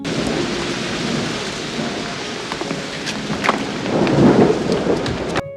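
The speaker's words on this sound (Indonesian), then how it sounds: "Dan malam itu cuaca sedang hujan." Rain pours steadily at night while thunder rumbles through it, the downpour a dense, close hiss that swells louder near the end before cutting off.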